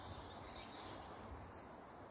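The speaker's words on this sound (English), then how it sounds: "Hopefully you can hear some birds calling around me." Small birds call faintly with thin, high chirps in a winter woodland at Thorncombe, distant and sparse over a quiet, soft background hush.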